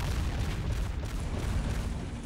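A tank cannon in the Call to Arms combat game fires an armor-piercing round, a dense low rumbling blast that fills the whole moment at steady loudness with no talk over it.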